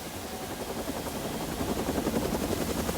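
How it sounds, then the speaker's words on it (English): A helicopter's rotor thrums loudly and continuously, a heavy rumbling chop that builds slightly over the few seconds, evoking an aircraft descending in a film action scene. "you forget about the helicopter coming down and shooting the office up"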